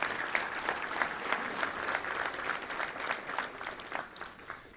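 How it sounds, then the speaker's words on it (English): Audience at a Little Rock Touchdown Club luncheon applauds the event's sponsors, a dense, steady round of clapping from many hands that holds at full strength throughout with no speech over it. "Let's give a big round of applause to all of our great sponsors."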